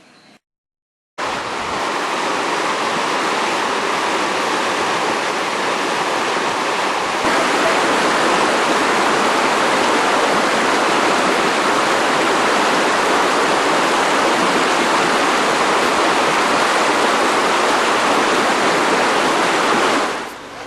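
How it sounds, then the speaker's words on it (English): A mountain stream rushes over stones near Mandu in Dhar District, a loud, continuous broadband roar of flowing water that starts abruptly after a brief silence and grows slightly stronger partway through before cutting off. "the continuous movement of water is very amazing. This flow of water stream has come from the big mountains"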